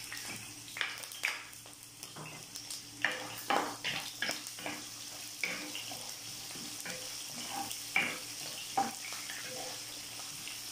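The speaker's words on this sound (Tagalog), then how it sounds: "simulan natin mag-gisa ng sibuyas." Onions sautéing in a pan for lemongrass chicken, a soft steady sizzle under intermittent spoon scrapes and taps, fairly quiet and close, with no talking.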